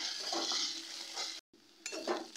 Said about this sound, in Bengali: আদা রসুনের কাঁচা গন্ধটা চলে যাওয়া অবধি নাড়াচাড়া করে নিতে হবে